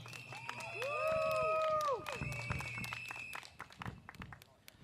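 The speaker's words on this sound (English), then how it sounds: "Another round of applause for her, please" Crowd at a People's Power Party rally in Ang Mo Kio for Singapore's 2025 general election breaks into loud applause and cheering that swells early and then trails off into scattered clapping and murmur.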